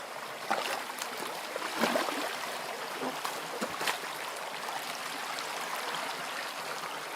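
Steady rush of a flowing stream of water, a continuous broadband wash with small splashes, moderately close and even for the whole stretch.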